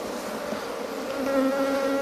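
Honey bees at a hive drone in a steady, close buzz that swells slightly louder toward the end, with several wings humming at once.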